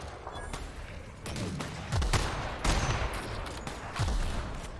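Sniper rifle shots ring out in The Outer Worlds while fighting creatures outdoors, several heavy booming reports spaced about a second apart over a steady rumbling background.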